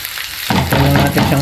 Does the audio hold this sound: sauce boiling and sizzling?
yes